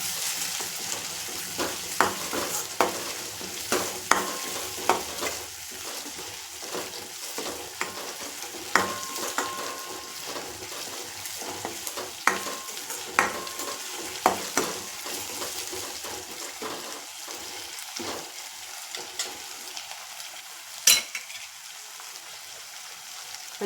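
A spiced potato mixture with turmeric is stirred in a frying pan for garlic potato bhungla, with repeated scraping and tapping strokes over a soft sizzle, close and fairly quiet, no talking.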